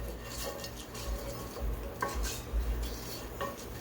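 Fenugreek (methi) seeds are swirled and toasted in a pot, giving a soft, busy rustle with light scraping and faint sizzle over a low steady hum, close by and fairly quiet.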